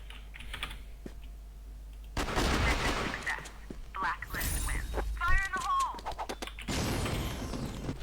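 Rapid bursts of video game gunfire crackle in quick volleys, mixed with dense keyboard clatter and a voice talking over the action.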